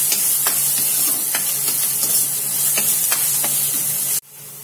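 Sliced onions with salt frying in a pan, a loud continuous hiss with repeated spoon strokes at a steady rhythm, cutting off abruptly near the end.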